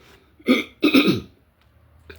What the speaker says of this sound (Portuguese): Perdão, hein? Pigarra.